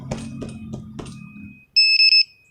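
A short electronic alarm from a Honda CB150 motorcycle's smart key remote chirps three times in quick succession, loud and shrill, after a stretch of low clicking and handling noise.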